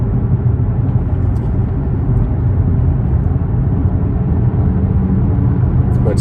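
A 2008 Infiniti G37S with 330 horsepower cruises in sixth gear at low speed, giving a steady low engine rumble and road drone that stays even and loud throughout, with no talking.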